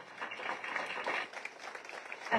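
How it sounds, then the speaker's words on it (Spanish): An audience at a book presentation on artificial intelligence and protection of the person claps for a speaker. The applause is brief, dense and moderately loud, with many overlapping hands and no pauses. "Les pido un fuerte aplauso"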